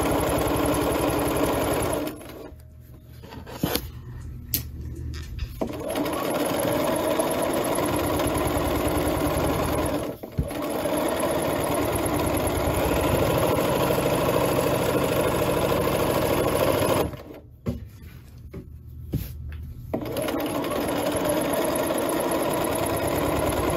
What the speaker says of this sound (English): you do not have to sew this fast